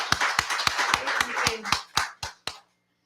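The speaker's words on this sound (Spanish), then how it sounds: "para concluir, un aplauso para la maestra Daniela Noris." Clapping from a small group, about a dozen sharp rhythmic claps thinning out and stopping after two and a half seconds.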